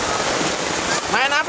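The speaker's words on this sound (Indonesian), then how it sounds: "Turun hujan." Heavy rain pours down steadily outdoors while people bathe in it, a dense close hiss with splashy droplets and a brief voice rising near the end.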